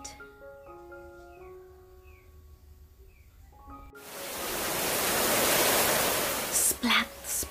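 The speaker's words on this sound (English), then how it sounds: "Rain fell on the ark." After a short gentle musical passage, heavy rain pours on Noah's ark as a sudden, loud, steady hiss that continues to the end with a few brief interruptions.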